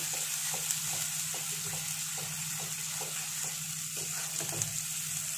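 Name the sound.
stirring and frying masala for prawn malai curry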